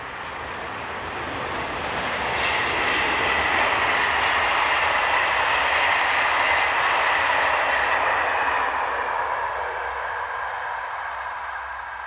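SNCF BB15000 electric locomotive 15063 hauling a passenger train at Remilly-Sauvigny, its broad roar and rumble swelling steadily as it draws near, staying loud through the middle, then easing slightly as it passes.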